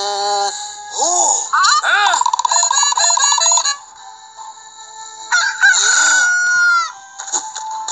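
A rooster crows several times in a children's Bible story about Peter denying Jesus, with loud, rising and falling cock-a-doodle-doo calls close by, among other bright tones and sound effects.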